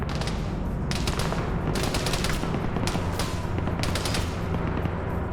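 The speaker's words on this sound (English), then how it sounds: "You got that machine gunner opening up." A machine gunner in the video game TBD fires several sustained bursts of rapid automatic gunfire, loud and close with brief pauses between volleys, over a steady background rumble of battle.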